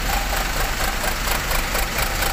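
Exhaust of a Sumber Alam intercity bus idling at its depot in Pondok Ungu, Bekasi, a loud, close, steady low rumble with a constant droning texture and no speech.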